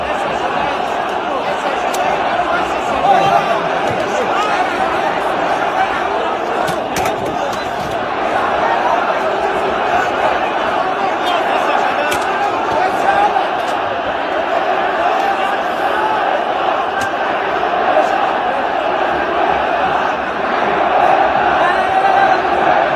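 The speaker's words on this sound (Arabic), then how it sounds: "الجماهير ديال الجيش الملكي كما تشاهدون" Supporters of the AS FAR football club fill a stadium with a continuous roar of crowd noise, chanting and shouting voices blending into a dense, steady wall of sound that runs throughout.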